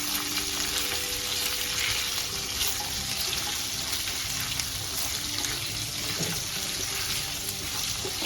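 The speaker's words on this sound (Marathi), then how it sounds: "आता आपण यामध्ये रेड आणि ग्रीन शिमला मिरचीचे चौकोनी भाग केले ते टाकायचे आणि कांदा. हे सगळं भाजून घ्यायचं आपण." Red and green capsicum pieces and onion sizzle in hot oil for paneer chilli, a dense, steady crackling hiss that continues without pause at close range, with no voices.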